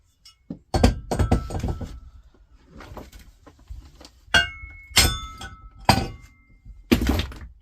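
Hammer blows strike a chunk of scrap aluminium: a quick cluster of knocks followed by about five sharp, ringing metallic bangs spaced roughly a second apart, close and loud, with quiet between hits.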